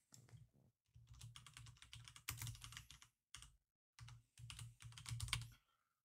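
Typing on a computer keyboard while setting up server users and group policy, quick clusters of soft key clicks in several bursts separated by short pauses, close and quiet with no voice.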